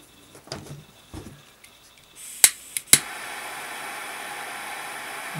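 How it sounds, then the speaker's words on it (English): Torch lighter ignites with a couple of sharp clicks, then a steady close hiss of flame melting the freshly cut end of paracord on a survival bracelet, with some soft handling noises beforehand. "If you're using a torch lighter"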